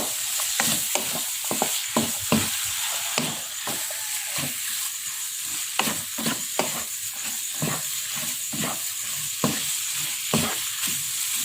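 Cucumber and carrot being stirred in a hot pan, a continuous sizzle broken by frequent rhythmic scrapes and clacks of the spatula, close up and without speech.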